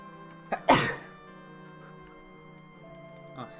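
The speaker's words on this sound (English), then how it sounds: "nice good old sneeze and a save" A single sharp sneeze bursts out near the start over quiet, steady video-game music, followed by a faint sniff or breath near the end.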